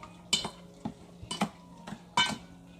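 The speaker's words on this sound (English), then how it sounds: "we're going to go ahead and stir all this up" Shrimp being stirred with lime juice in a bowl, giving a few separate clinks and scrapes of utensil against the bowl, fairly close and quiet, with pauses between strokes.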